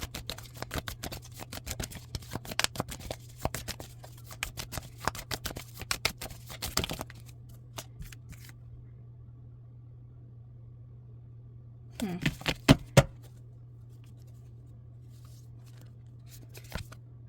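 Tarot cards being shuffled by hand to draw one more card, a dense run of quick riffling clicks for several seconds, then quiet, then a brief burst of card flicks near the end.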